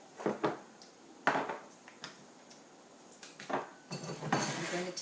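A metal spoon clinks against a pot while being dipped in to scoop out some thickening liquid, in several sharp, close, separate knocks and scrapes with short quiet gaps between them.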